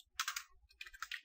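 Quick computer keyboard typing in two short bursts of rapid, light keystrokes, close and fairly quiet with a brief pause between them.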